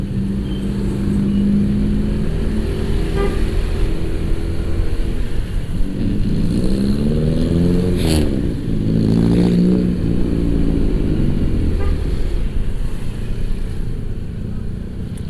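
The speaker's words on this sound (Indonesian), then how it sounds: "jadi di sini wisatawannya tuh pakai mobil jeep kayak gini nih" Jeeps crawling through congested tourist traffic near Dieng, with a steady engine drone and a revving surge midway, the vehicle noise continuous and fairly loud throughout.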